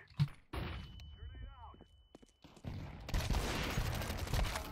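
Gunfire in Counter-Strike 2, a few sharp bursts and thumps in the opening second, then a brief gap and steady game noise, with someone talking throughout.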